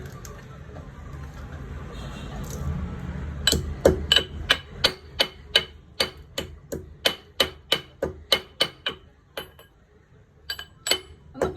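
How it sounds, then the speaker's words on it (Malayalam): Cardamom pods are crushed for masala tea in a home kitchen, about twenty sharp, evenly spaced pounding strikes ringing out clearly over quiet background noise. "ഏലക്ക ഒന്ന് ചതച്ചെടുക്കാം"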